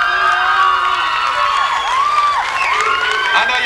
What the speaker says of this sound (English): I know y'all clapping for my beatbox